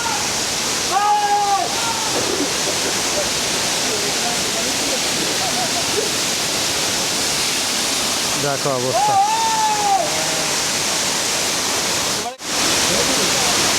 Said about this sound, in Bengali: একদম ঝর্ণার জল পড়ছে এখানে সেইখানে আমি দাঁড়িয়ে আছি